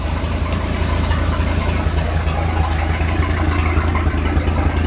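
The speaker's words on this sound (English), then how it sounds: "No, it's running fine. You don't have to raise the RPM." A one-of-a-kind speed boat's engine idles steadily at low RPM, a deep continuous rumble with a faint uneven knock, close by and alone without talk.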